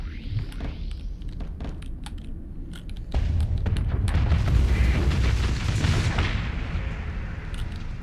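Ship explosions in the space combat game Starsector: a dull rumbling blast swells after a few seconds and keeps roaring for a while, with scattered sharp clicks and pops on top, at moderate loudness without voices.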